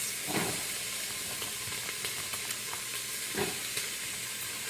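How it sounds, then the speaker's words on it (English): Vegetables sautéing in a pot for a buffalo chicken soup, giving a faint steady sizzle and hiss with a few soft clinks and scrapes of stirring. "I'm going to let that saute for about 5 minutes."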